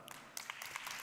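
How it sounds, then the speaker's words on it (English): Brief burst of audience applause at a climate and energy forum talk session, a dense patter of many hands clapping at moderate distance and filling the whole moment. "How about a round of applause for Lara?"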